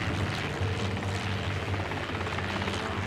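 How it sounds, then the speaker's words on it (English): Mech jump jet firing in the diesel-punk strategy game Grit & Valor: a loud, constant roar of thrust with a throbbing, rotor-like pulse, close and unbroken, with no talking. "Jump jet."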